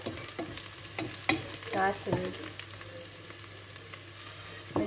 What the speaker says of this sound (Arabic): تسخن وتحمر شويه البصل